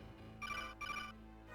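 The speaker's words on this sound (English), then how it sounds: "I'm getting a phone call." Incoming phone call ringtone: two short, bright electronic ringing bursts in quick succession, fairly faint over a low background hum.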